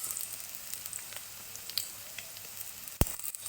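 Onion, ginger, green chili and curry leaves sauté in hot oil, giving a faint steady crackling sizzle with a single sharp knock near the end, quiet and close with no talk.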